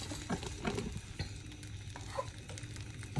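Scrambled egg mixture lightened with kefir and mayonnaise hitting a warm pan, with close sizzling and frying plus intermittent scraping stir sounds and no talk.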